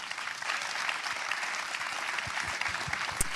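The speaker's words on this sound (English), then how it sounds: "can I just get a massive round of applause for our panel?" Audience applause for a conference panel, a dense steady wash of clapping hands filling the room for a few seconds at moderate volume.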